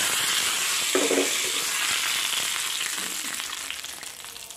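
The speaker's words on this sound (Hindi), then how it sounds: "अब मैं ये जो एक लौकी और अलसी का सब्जी है उसमें डाल देती, तड़का लगा देती हूँ।" Hot oil tempering poured into a bottle gourd and flaxseed sabzi, a sharp burst of sizzling and crackling that settles into a steady, softer frying hiss, close and without talk.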